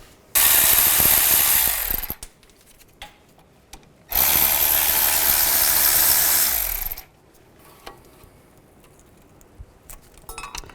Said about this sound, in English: Now take these two caliper bolts out. Use a 14mm socket.